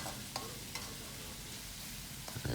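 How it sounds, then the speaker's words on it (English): Pork and beef menudo is stirred in a pan, with a steady low simmer and sizzle broken by a few soft scraping strokes of the spoon against the pan. "So you just keep mixing it so it's all cooked all around really good"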